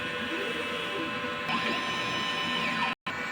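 An inkjet printer runs a nozzle check after cleaning, giving a steady mechanical whir with a sliding print-head sweep and a brief sharp cutoff near the end, no voices.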